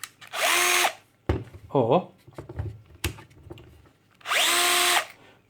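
A Bosch GSB 14.4-2-Li cordless drill, a 2-speed model with variable trigger, whirs loudly in two short bursts, spinning up and winding down, with someone speaking briefly between the runs.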